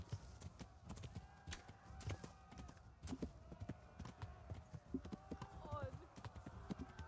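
Horse hooves clip-clop at a gallop in the medieval video game Kingdom Come Deliverance, a steady rapid patter of hoofbeats heard close, mixed with game ambience and someone talking over it.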